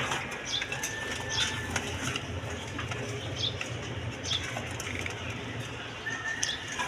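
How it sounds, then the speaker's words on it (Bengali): A pair of Danish pigeons flutter and coo at a farm, soft wing flaps and scattered chirps over a low steady background murmur. "এক পেয়ার ডেনিশ কবুতর দেখেন"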